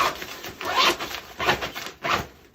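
A zipper runs around a small carrying case holding a folded 3.5 by 5 foot collapsible green screen, in several short, raspy pulls with brief pauses between them, close up.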